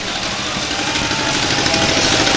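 A John Deere tractor idles in a small-town Christmas parade with a steady, loud engine rumble and dense broadband noise throughout, no talk over it.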